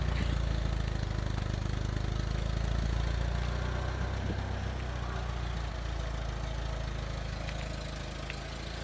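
A VW Golf 3 petrol engine idles close by at near operating temperature, its revs drifting up and down in a continuous low hum, with no one speaking.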